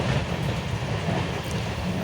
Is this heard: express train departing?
yes